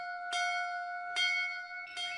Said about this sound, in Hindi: मंदिर की घंटी बज रही है, आरती का टाइम हो गया है।